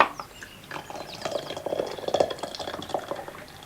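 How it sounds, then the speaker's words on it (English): Boiling water poured into a teapot over sprigs of lemon balm, a steady close splashing and trickling stream with small drips and gurgles, heard alone. "Just put them in your teapot and top it up with boiling water"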